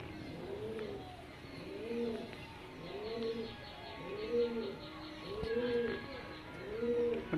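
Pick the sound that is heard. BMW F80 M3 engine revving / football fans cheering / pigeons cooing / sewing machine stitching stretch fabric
pigeons cooing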